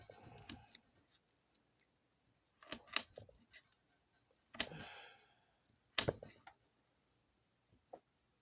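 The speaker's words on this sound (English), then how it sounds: "I think maybe a sharper pair of scissors might help this out a bit too." A pair of scissors snips through material in a few separate crisp cuts, each a short sharp rasp followed by quiet gaps, close and fairly faint.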